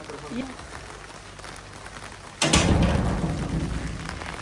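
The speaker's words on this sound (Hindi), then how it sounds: "उस साइड पर ज्यादा तेज बारिश है।" Heavy rain falling outdoors, starting softer and then surging abruptly into a loud, dense hiss and roar about halfway through, continuing strongly to the end; a voice is heard faintly early on.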